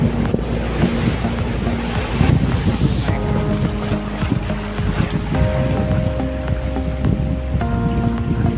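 Big sea waves surge and wash onto a rocky beach near Nivati fort on the Konkan coast, a steady loud roar of surf mixed with wind buffeting the microphone.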